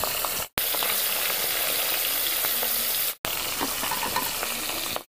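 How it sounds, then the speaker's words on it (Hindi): Fish fries steadily in a hot pan, a loud continuous crackling sizzle broken by two short cuts to silence. "बाकी मछली भून लेते हैं।"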